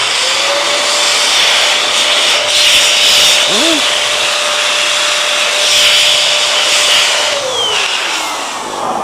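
A Metro Vac Sidekick vacuum blower runs loud and steady with a strong, continuous whoosh of air and a sustained motor whine that holds, then winds down near the end.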